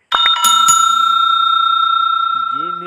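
A bright bicycle-style bell rings out loud and close, two quick strikes followed by a long sustained metallic ring that slowly fades, with a brief higher chime at the end.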